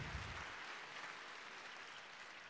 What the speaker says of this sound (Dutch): Geef ze maar eens een warm applaus